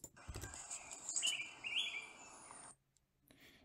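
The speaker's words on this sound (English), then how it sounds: "if we play the target bird" A recorded call of a target bird species plays from a speaker, bright chirping notes in a steady stream for under three seconds, then cutting off to near silence.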